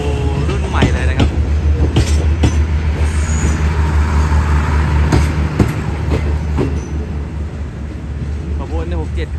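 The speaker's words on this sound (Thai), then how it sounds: "ปิดท้ายด้วยรถนอนแดวูนะครับคันสุดท้ายเป็นรถนอนแดวูรุ่นใหม่เลยนะครับ" A passing Thai railway express train rolls by loudly and close, steady wheel rumble and rhythmic clatter throughout, with a squeal near the end as the final car, a new Daewoo sleeper, goes past; a voice talks over it.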